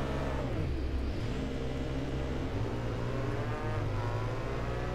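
An Aprilia Tuono motorcycle engine in the racing game Ride 2 revs up and down through short gears, with rising and falling pitch sweeps and gear changes, loud and continuous on its own.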